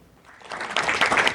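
Members at an event begin applauding a man, the clapping rising quickly from quiet to a steady, fairly close burst of many hands.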